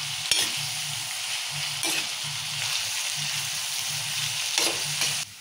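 Onions and green chillies fry in hot oil for an okra curry, a loud, continuous sizzle broken by several scraping stirs of a spoon against the pan, with no voices.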